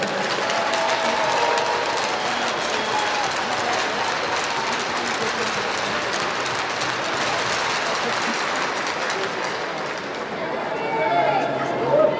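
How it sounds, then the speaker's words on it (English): Steady crowd applause fills a hockey rink during a memorial hockey day game between FDNY and the Long Beach Guardians, sustained and dense throughout, with a slight swell near the end. "So, this, a round of applause."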